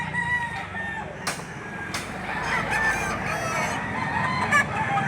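Chickens and roosters at the Lipa poultry auction market, with clucking and a rooster crowing amid a dense, steady barnyard din of many birds, plus a few sharp knocks.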